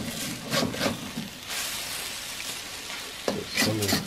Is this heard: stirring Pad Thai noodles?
yes